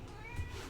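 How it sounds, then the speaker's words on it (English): A single short cat meow, faint and slightly distant, over a low background hum. "That's my cat. She's getting in the room."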